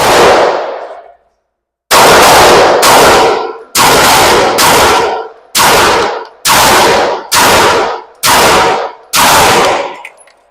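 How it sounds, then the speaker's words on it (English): Rapid pistol shots fired at precise targets during an advanced shooting lesson, a loud close burst followed by eight sharp cracks in a fast, fairly even rhythm with metallic ringing and no talk. "I'm shooting at super precise targets"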